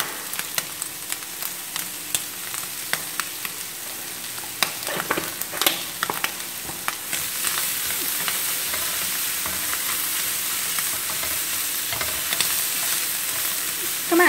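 Cucumber stir-fried in a hot pan for a glass noodle dish with fresh bamboo shoots: scattered clicks and scrapes of stirring, then a steady, louder sizzling hiss takes over for the second half, with no talking.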